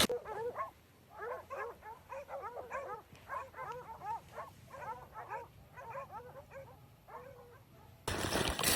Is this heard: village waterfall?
no